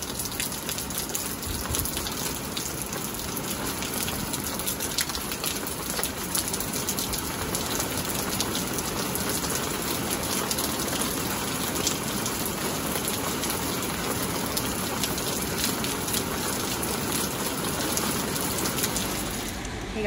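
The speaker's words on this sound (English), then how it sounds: "We've been standing out here because it feels nice to stand in the rain." Steady rain falls on a street, a dense, even hiss of drops splashing close by and continuing without pause, with faint bird calls in the background.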